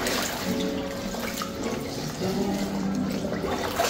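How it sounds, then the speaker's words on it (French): Clothes washed by hand in a basin of water, with sloshing and splashing bursts, close by, alongside some faint vocal sounds. "Lavage à la main, à la bassine."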